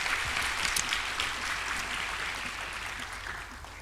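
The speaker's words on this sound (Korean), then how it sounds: "축복하고 축하의 박수를 보내겠습니다." A congregation applauds graduates during a church service: steady, dense clapping throughout, easing slightly in loudness toward the end.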